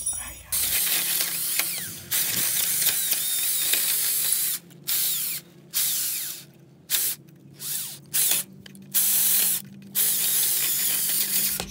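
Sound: drilling into a sill plate

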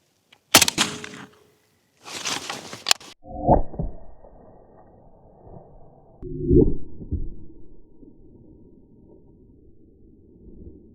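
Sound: rifle shot hitting foam concrete block

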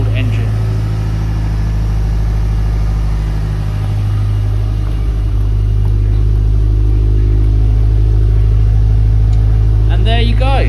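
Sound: Subaru Impreza STI engine revving, exhaust sound

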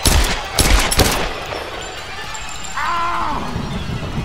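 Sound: gunshots in Tomb Raider video game

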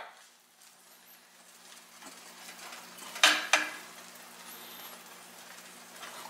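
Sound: sausage moved with a fork in a frying pan

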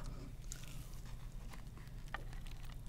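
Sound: eating braised spicy seafood with king tiger prawn

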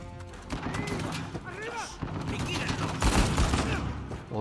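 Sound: gunfire from the video game Uncharted 4

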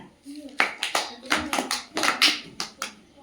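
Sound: children clapping hands

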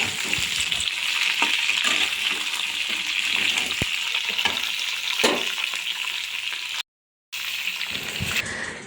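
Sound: vegetables being stir-fried in a pan

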